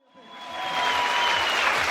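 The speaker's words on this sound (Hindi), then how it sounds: "तालियां बज सकती हैं और जोर से बज सकती हैं।" An auditorium audience breaks into applause at a business event, the clapping building from nothing within a fraction of a second into loud, dense, steady handclaps from many people.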